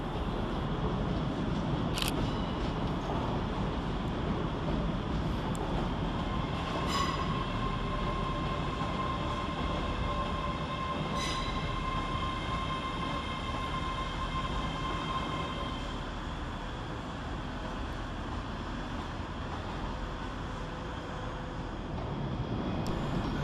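A ScotRail class 385 electric train arrives at Glasgow Queen Street station on the far platform to terminate from Edinburgh Waverley. A steady rolling rumble and hum continue throughout, with brief wheel squeals and clanks and no voices.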